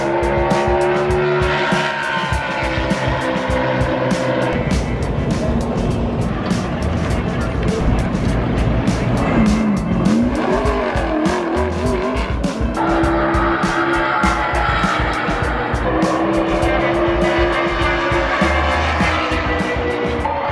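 NASCAR Cup Series race cars in qualifying at Phoenix roar continuously and loudly, engine tones rising and falling as cars pass close by, with tire squeal and a steady crowd and track din underneath.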